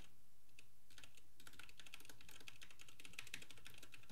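Keyboard typing recorded as an off-axis noise test for a Maono PD400X USB/XLR microphone: quick, uneven clatter of keystrokes, sparse at first and then a steady dense patter, fairly quiet and with no voices.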